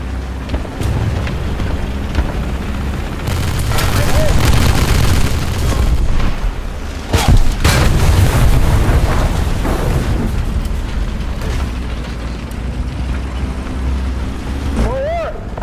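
In War Thunder, a tank shell strikes and explodes, with loud booming blasts and rumbling battle noise that stays heavy throughout, plus a sharp impact crack near the middle.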